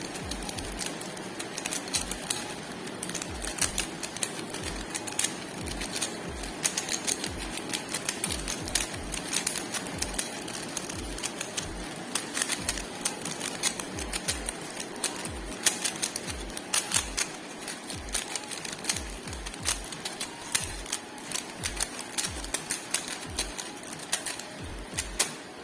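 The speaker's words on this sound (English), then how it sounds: "Now I am going to shuffle this cube." A 3×3 Rubik's cube being shuffled by hand, its plastic layers clicking and rattling in a fast, continuous stream of sharp little snaps for a long stretch, close and fairly quiet.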